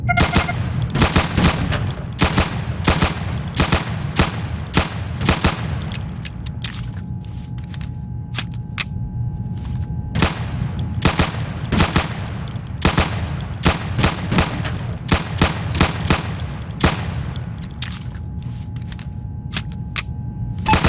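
Rapid bursts of gunfire ring out at shooting range targets in the video game Insurgency. The shots are loud and close, fired in quick clusters with short pauses between volleys.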